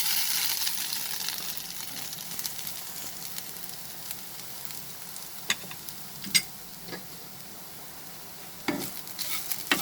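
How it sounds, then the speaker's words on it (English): Coconut roasting in a pan over a medium flame for a gujiya filling makes a soft, steady sizzle. Occasional stirring scrapes and clicks break through the sizzle. No one talks. "roast the coconut"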